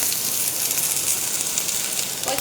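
Green onion sizzles steadily in a hot pan with oil, giving a dense, continuous hiss. The sound stays close and fairly loud from start to finish, and no one speaks over it.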